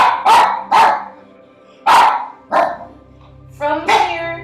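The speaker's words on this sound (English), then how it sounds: "I'm shushing the dog in the background." A dog barks loudly in the background of a home practice session, sharp single and paired barks spaced out over several seconds with no talk in between.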